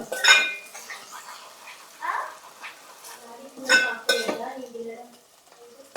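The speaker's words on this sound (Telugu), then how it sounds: "వేసి దీన్ని ఒకసారి కలుపుకుందామండి" Spoon stirring ginger-garlic paste into a pot for Telugu-style fish curry, giving intermittent scraping bursts with a faint sizzle beneath, close and moderately loud, separated by quieter pauses.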